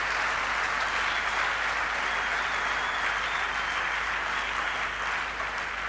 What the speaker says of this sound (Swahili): Bwana makofi, Mungu wa uwezo.